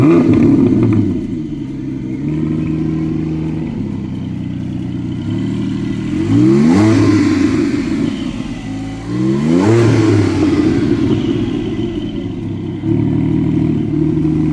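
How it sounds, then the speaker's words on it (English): A cold Porsche 718 Spyder engine turns over and starts, then settles into a steady idle broken by two sharp revs that climb and fall, loud and close, with no talking over it. "Don't want to rev it too much, the engine's cold."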